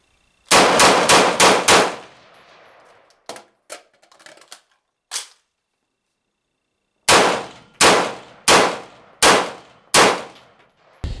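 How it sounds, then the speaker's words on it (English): An IWI Tavor X95 rifle with an 18.6-inch barrel is reloaded: a quick series of sharp metallic clacks and clangs, close and loud, in bursts separated by silent pauses, with no talking. "Reloading with this rifle can be very quick and very smooth with a bit of practice."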